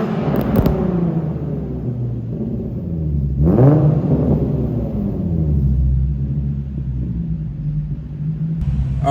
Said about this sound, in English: so that's the little exhaust clip.